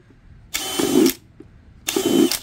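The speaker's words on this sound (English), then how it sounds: "my husband is drilling holes for me for the pot" A power drill boring holes in a plant pot, two separate bursts of whining, grinding drilling of about half a second each, close and loud, with a short quiet gap between them.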